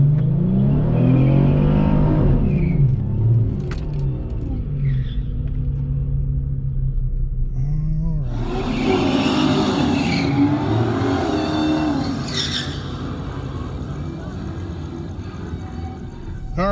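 A V6 3.5L Mopar Dodge Charger on the track at Orlando Speed World revs loudly up close, its engine rumble rising and falling before a second burst of harsh acceleration with tire noise.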